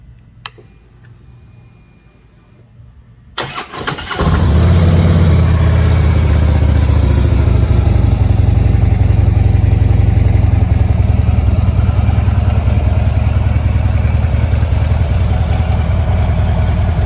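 A 2014 Harley-Davidson Electra Glide Ultra Limited with Screaming Eagle exhaust and intake cranks and fires up after a few seconds of quiet, then settles into a loud, steady, deep idle lumbering close by.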